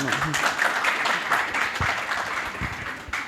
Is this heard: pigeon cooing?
no